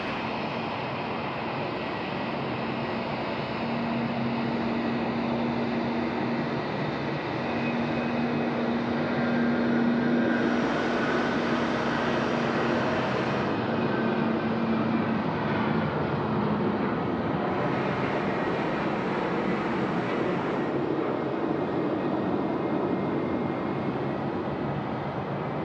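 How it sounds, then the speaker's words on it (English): Embraer E190 jet taking off from runway 16 right at Sydney Airport at night, a sustained broad engine roar that builds and holds for the whole stretch, loud and steady, with a whining tone in the middle and no talk. "the E190 now rolling 16 right"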